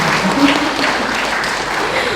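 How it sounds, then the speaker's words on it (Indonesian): Audience applause for a school committee at a parents' gathering, steady, dense clapping that fills the whole moment at an even level. "mari kita berikan tepuk tangan untuk komite selanjutnya"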